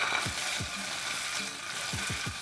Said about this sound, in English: First we're gonna add our tomato paste into some olive oil to kind of get that metallic-y taste out.